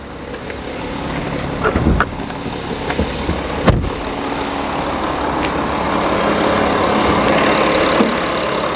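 A VW Touareg engine idles with the bonnet open, a steady mid-pitched rumble heard close up with a few brief knocks and clicks over it.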